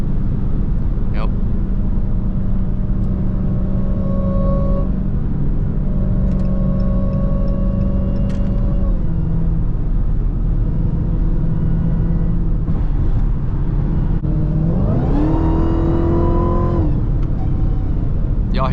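A Dodge Charger Hellcat drives in highway traffic, its engine a constant loud drone that holds steady, shifts pitch, then climbs sharply in a strong rev near the end.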